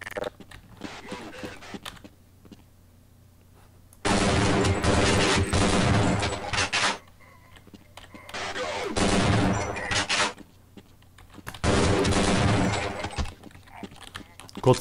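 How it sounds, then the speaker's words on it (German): Shotgun fire in the video game Half-Life: Blue Shift, with bursts of loud blasts and mechanical clatter in two long stretches separated by quieter gaps, with a voice talking between them. "Der Zwei-Schuss-Modus von dem Teil ist schon ein bisschen OP."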